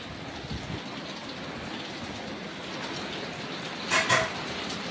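Heavy rain pours in a steady, even hiss, with a brief louder splash near the end and no voices.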